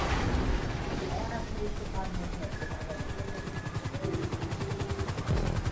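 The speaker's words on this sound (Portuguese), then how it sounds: "Ah, agora vai ter helicóptero." Helicopter in the video game GTA V during a stunt race at Vinewood, a steady rapid rotor chop with engine drone, loud and continuous, with layered game effects and a voice talking over it.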